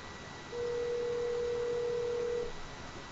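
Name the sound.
phone call ringing on an Apple Watch over cellular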